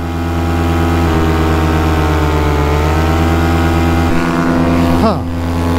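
Atom 80 engine running close and loud, a steady droning hum with a brief dip and wavering pitch near the end as it stumbles.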